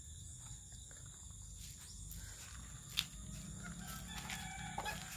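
Chickens clucking faintly in the background over a low steady rumble, with occasional brief calls and chirping insects, no talking.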